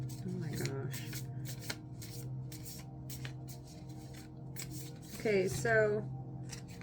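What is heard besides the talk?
shuffling tarot cards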